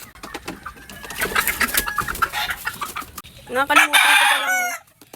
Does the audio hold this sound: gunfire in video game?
no